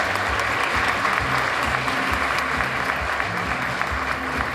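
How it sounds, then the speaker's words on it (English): Warm, sustained applause from an audience at a county Teacher of the Year celebration, honoring a second-year teacher; dense, steady clapping fills the whole stretch at a constant loudness with no voices over it. "Let's give her a big round of applause."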